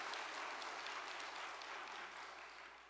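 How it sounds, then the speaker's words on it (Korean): A congregation at a Korean church association gathering gives a steady round of grateful applause, sustained and fairly distant, gradually fading toward the end. "우리 다시 한번 감사의 박수를 부탁드립니다"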